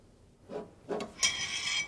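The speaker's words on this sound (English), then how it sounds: "then I need to flat down the lacquer to get rid of this line" Lacquer on a car front fender is flatted down by hand, giving a few short abrasive rubbing strokes that grow into a sustained hissy scrape, close and fairly quiet, with no talk.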